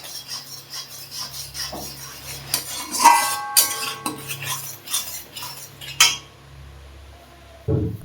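A spoon scraping and clinking against a pot while milk with lemon juice is stirred continuously for homemade milk cake, with repeated close metallic rubs and taps.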